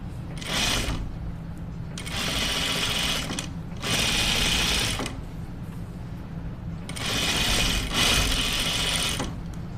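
A sewing machine stitches a dress in several close, loud bursts, each running a second or two with short pauses between, and no talk over it.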